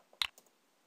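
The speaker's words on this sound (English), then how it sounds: "So I'm going to just start typing if else, and you can see it shows up there, so I'm just going to hit enter" A single enter key press on a computer keyboard gives one sharp close click with a softer tick just after, quiet and alone.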